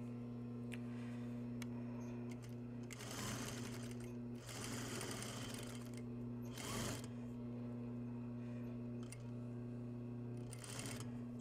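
A sewing machine runs steadily, stitching a seam in apparel construction, its motor hum continuous under several short bursts of faster stitching.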